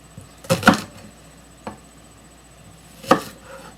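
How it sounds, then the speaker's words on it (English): Three sharp knife chops through an onion on a cutting board, a quick double stroke followed by two spaced single chops, close and crisp in a quiet room. "we're just going to need some chunks of onion, so nothing in the way of fancy chopping"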